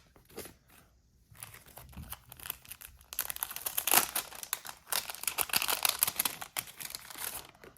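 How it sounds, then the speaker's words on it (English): Thin plastic bag crinkling and rustling up close, quiet handling at first, then dense, loud crackling bursts through the latter half, no talking. "I can always tell when the plastic bag is eco or not."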